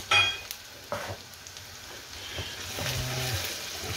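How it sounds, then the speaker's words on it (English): Curry powder, a tablespoon of a 37-ingredient gourmet blend, frying in a pan with soft sizzling, occasional stirring scrapes and a few clinks, steady and close with no talking. "Cook the raw flavours out of the curry powder."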